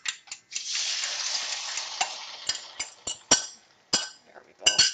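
Scrambled eggs going into a hot pan and cooking, a soft sizzle rising after a brief clatter, then punctuated by a series of sharp clinks and scrapes of a utensil against the pan, close and moderately loud.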